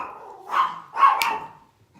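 A dog barks twice in quick succession indoors, close and loud, the second bark longer and rougher than the first, with no talk over it.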